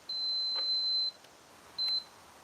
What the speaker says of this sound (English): Excuse the beeps.